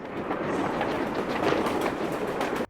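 Train running in the 1969 film Butch Cassidy and the Sundance Kid, a dense, steady rumble with rhythmic clatter heard close and fairly loud throughout, ending abruptly.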